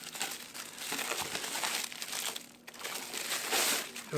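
Plastic packaging of an air compressor for inflating car tyres being torn and crumpled open, a continuous close crinkling rustle that fills the whole moment, with no talk.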